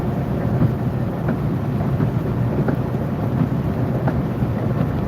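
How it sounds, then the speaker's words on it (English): A thunderstorm heard from inside a car driving through Georgia, with steady dense rain hiss and a deep continuous rumble of thunder and road noise, no voices. "Stormy day today."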